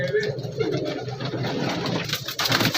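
Pigeons coo softly at the Shahdara pigeon market in Lahore, low throaty calls running beneath nearby talk and general market noise.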